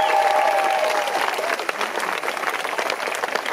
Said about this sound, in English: Let's give a nice round of applause to Mayor Warren Poe.